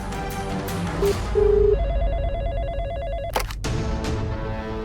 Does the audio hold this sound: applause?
no